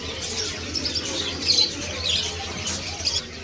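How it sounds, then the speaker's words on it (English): At a crowded bird market in Doha, including parrots, many birds chirp and squawk in a dense, loud din with sharp calls breaking out above it; no one speaks. "We are entering a bird market."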